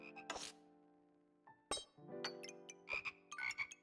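Toads croaking in the Backpack Battles video game, a few sharp croaks and clinking game sounds scattered with short gaps, clean and close.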